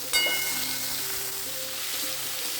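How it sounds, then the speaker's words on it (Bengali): Eggplant (neem-begun style) frying in oil in a pan, giving a steady close sizzle with a brief louder crackle at the start and no talking. "এখানে নিম বেগুনটা ভাজা হচ্ছে। এই বেগুনটা ভাজা হচ্ছে"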